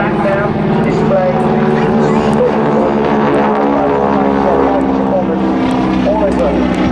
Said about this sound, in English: Those two steerman aircraft coming back down to display